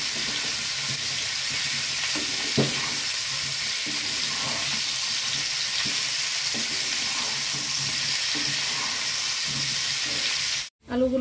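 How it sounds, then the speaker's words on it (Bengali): Potato pieces frying in hot oil in a wok with turmeric, a steady loud sizzle running throughout, close up, with occasional faint stirring knocks and a brief dropout near the end; no talk. "আলুগুলোকে লাল লাল করে ভেজে নেব।"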